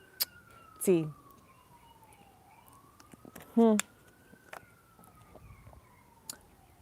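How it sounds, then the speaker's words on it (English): Siren wailing outside in the background, faint and distant, its tone slowly sliding down and back up, while someone speaks indoors in brief bursts over it. "You hear the sirens back there?"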